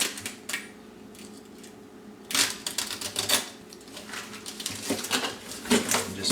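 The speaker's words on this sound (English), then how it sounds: "just take a sharp knife and cut the net bag away from the top here" Sharp knife cutting a net bag away from the top of a raw turkey, a series of close, dry snips and plastic rustles and taps in irregular bursts, fairly quiet.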